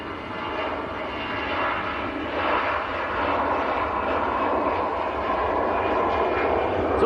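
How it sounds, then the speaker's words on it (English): An EasyJet airliner rolling away at Manchester Airport, its engines giving a steady, loud jet roar that holds throughout with no talk over it. "EasyJet to Amsterdam, Marjolein territory just rolling away."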